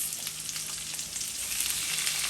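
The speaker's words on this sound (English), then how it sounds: "So you're gonna allow this to fry for about 30 seconds" Garlic, onion and diced pineapple frying in a pan, a dense, steady sizzle with crackling pops, close and even throughout, without any talking.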